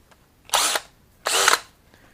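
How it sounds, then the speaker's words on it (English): A power drill bores out a broken exhaust bolt hole on a 1976 Honda Elsinore MR175, two short close whining bursts with a brief pause between them. "drill the final size drill bit hole"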